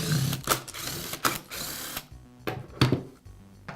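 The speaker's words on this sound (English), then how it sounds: "I'll begin by removing the rear handle cover." Close, quiet mechanical clicks and ratcheting as a screwdriver works on the rear handle cover of a Makita belt sander, a few sharp ticks and scrapes with short pauses between.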